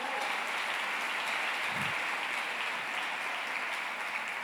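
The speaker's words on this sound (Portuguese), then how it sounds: "Aplauda ao Senhor." Church congregation clapping for the Lord during a sermon, a steady wash of many hands applauding at moderate distance, even and unbroken with no voices rising above it.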